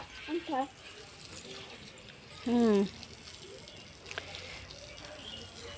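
Tap water runs steadily to waste as a soft, continuous hiss, with a few short vocal murmurs over it.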